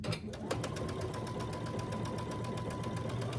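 Sewing machine stitching quilt top seams with a fast, even mechanical chatter of needle strokes and a steady motor hum, close and continuous.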